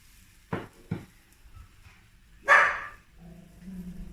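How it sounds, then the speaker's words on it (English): A dog barks in a home kitchen while pancakes cook, with two sharp close barks early, then a louder longer bark, and a faint sizzle underneath. "And that's my dog."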